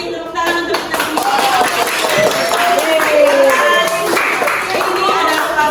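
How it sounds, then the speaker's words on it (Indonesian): Applause from a class at a school, steady loud clapping throughout with voices cheering and calling out over it. "tepuk tangan untuk kita semua"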